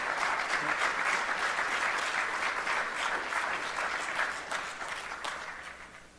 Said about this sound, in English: please join me in a round of applause for this great panel